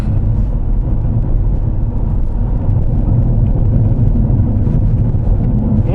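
Inside a Volkswagen Passat B6 on the move, a steady deep road rumble and tire roar fill the cabin, loud and continuous with slight swells, and no one speaks.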